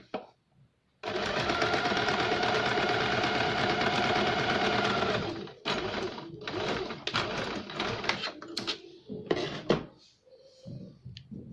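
A sewing machine stitches a princess-cut boat-neck blouse, running in one steady burst for several seconds, then breaking into short, clattering stop-start runs and clicks.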